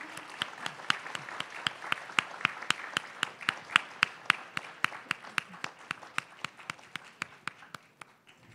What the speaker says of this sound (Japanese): 皆様拍手でお迎えください